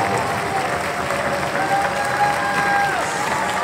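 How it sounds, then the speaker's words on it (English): An audience bursts into steady, full applause that fills the room, holding at an even level for several seconds with a faint tone sounding briefly over it. "Let's give them a big clap."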